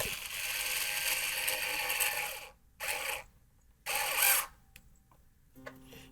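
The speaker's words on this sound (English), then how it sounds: "brass screw and the washer. And we'll screw it in." Brass screw and washer being driven into an Ibanez Talman guitar, with a sustained scraping, ratcheting turn for over two seconds, then two shorter bursts of the same grinding, close and fairly loud.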